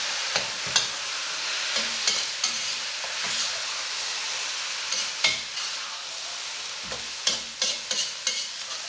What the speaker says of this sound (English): Then add the shredded yam beans and toss a few times.